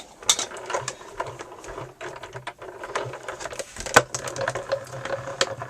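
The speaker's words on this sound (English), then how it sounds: "We're going to run that one back through again" A die cutting machine feeds card through its plates a second time with a steady mechanical clatter of ratcheting gears and small clicks, close and continuous, with one sharp louder snap partway through.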